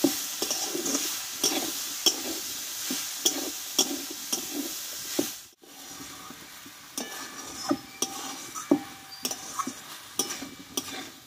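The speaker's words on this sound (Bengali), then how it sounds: "একসঙ্গে কিছুক্ষণ আমি আবারও কষে নেব ভালোভাবে।" Jackfruit being stir-fried with fried moong dal, a soft sizzle beneath repeated scraping and clinking strokes of a spoon against the pan, steady throughout with a brief pause midway.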